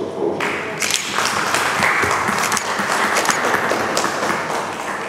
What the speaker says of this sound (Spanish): Vamos a darles la bienvenida a nuestra familia, brindándoles todos fuertes aplausos, por favor.